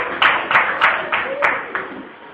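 A church congregation clapping hands in a rhythmic, steady beat during worship, with voices and a sung or spoken line mixed underneath.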